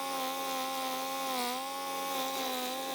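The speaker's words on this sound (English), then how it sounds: "The CBI 6400 CT is a high-performance mobile wood chipper and grinder" A CBI 6400 CT mobile wood chipper and grinder runs steadily with a droning, harmonic engine whine and a broad rushing roar, continuous and fairly close, with a slight dip in pitch midway.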